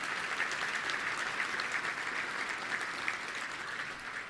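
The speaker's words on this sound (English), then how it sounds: "Would you give them a big round of applause?" Guests at a Little Rock Touchdown Club luncheon give volunteers a sustained round of applause, an even crackle of many hands clapping at moderate distance, fairly soft and unbroken with no talk over it.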